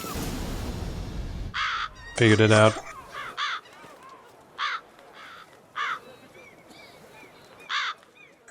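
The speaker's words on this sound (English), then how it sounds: "the amount of crows" Crows in The Witcher 3 give several loud caws in separate bursts spaced a second or so apart, following a stretch of game background noise and brief talk.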